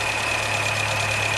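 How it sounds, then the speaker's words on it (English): A car engine fitted with an LPG fuel cutoff valve idles at about 570 rpm, a loud, even, continuous drone with a steady hum and a faint high whine, no voices. "Now at the moment, we're running on idle"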